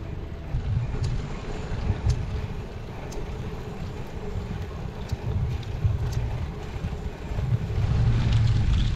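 Steady wind rushing and buffeting against the microphone, a low continuous roar with faint ticking in the background.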